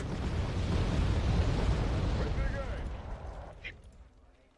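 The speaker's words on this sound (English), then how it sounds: "Oh, bombs!" Bomb blasts in the Wargame: AirLand Battle strategy game roll together into a long, rumbling, distant-sounding barrage that slowly fades, with a few small pops toward the end.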